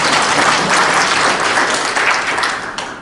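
A crowd at the founding ceremony of an agriculture and food policy forum gives loud, dense applause that holds steady, then tapers off toward the end.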